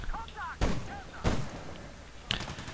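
Three sharp, loud gunshots crack at spaced intervals in the Medal of Honor Warfighter video game, each a sudden broadband burst with a short tail, over faint game sounds.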